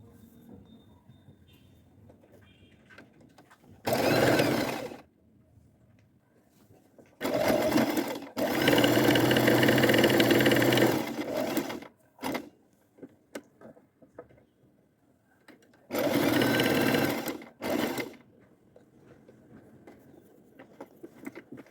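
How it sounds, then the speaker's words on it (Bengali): A sewing machine stitches a simple decorative design in three separate loud runs of whirring, with the longest burst in the middle and quiet pauses between. "এই যে এখন এটার উপর দিয়ে সেলাই দিয়ে দিব"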